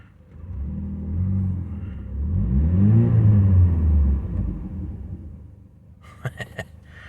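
A 2003 Saturn L200 with over 260,000 miles and no catalytic converter idles and revs up in a smooth, steady rise and fall of engine rumble, close and loud, followed by a few sharp pops near the end.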